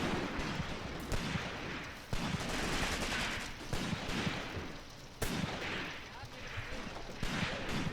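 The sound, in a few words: gunfire in Graviteam Tactics video game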